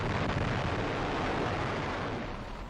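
A nuclear bomb explosion makes a loud, continuous, rumbling roar that fills the whole stretch and fades slightly toward the end.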